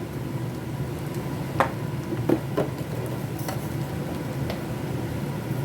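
A salted and peppered minced meat filling for crêpes being stirred in a pan, with a constant low sizzle and a few light scrapes of the spatula now and then.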